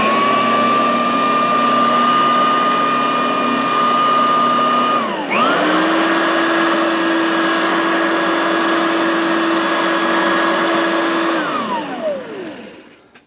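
A Maytag M500 upright vacuum cleaner runs on first speed with a loud, steady motor whine that dips briefly, settles into a slightly different pitch, then winds down at the end.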